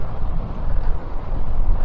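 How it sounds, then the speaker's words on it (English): Steady wind roaring and buffeting a microphone while bike riding at Busse Lake, a dense low rumble that never lets up, with no voices. "Of course, it's windy today."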